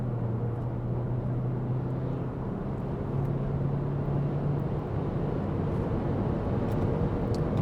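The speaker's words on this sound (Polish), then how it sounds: "Wyprzedzamy teraz ciężarówkę, dalej jesteśmy w trybie normal, jest 100 na szafie i rura." An Italian-built DR 6 running on LPG pulls hard at full throttle to overtake a truck, a steady low engine drone and road roar filling the cabin, muffled and continuous with no talk.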